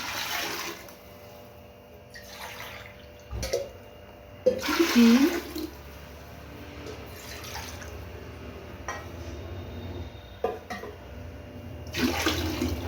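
Water is poured into a pot of rice in several short splashing bursts separated by quiet gaps, with faint drips and clinks nearby.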